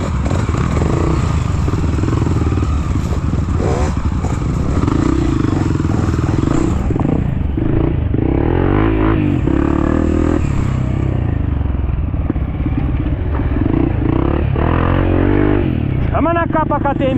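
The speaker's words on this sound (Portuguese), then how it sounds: "Chama na capa, KTM. Acelera, Aldair. Acelera, Aldair." A KTM dirt bike's engine revs and strains loudly and close on a muddy trail, with clattering and scraping mixed in, while people shout over it throughout.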